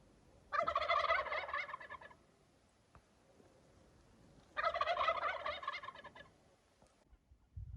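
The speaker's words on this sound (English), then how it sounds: "I was able to hear the turkeys up in their roost tree." Wild turkeys gobble from their roost tree before dawn in two loud rattling bursts a few seconds apart, fairly distant, with quiet stillness between them.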